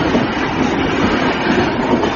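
A train rumbles steadily along the tracks, a continuous loud roar of wheels and carriage noise without pause.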